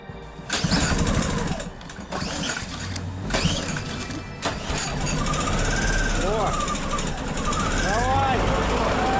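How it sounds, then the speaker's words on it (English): A gasoline generator in snowy conditions cranks and starts, then keeps running steadily to charge the batteries of a converted bus, its engine noise continuous beneath people talking nearby. "now it's time to fire up the generator and attempt to put some charge into the batteries"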